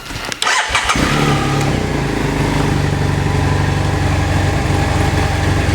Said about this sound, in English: let's turn the bike on for a moment